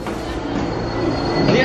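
Subway train on a New York City line rumbling steadily with a rising squeal of wheels near the end, heard from inside the car as a constant loud background.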